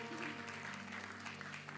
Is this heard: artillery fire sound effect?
no